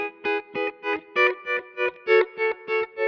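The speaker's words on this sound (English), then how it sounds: "And there, it's nice, got a nice throbbing sound." A pedal steel guitar sustains a chord through a throbbing modulation effect, pulsing in about ten even, rhythmic swells that rise and fall with no talk.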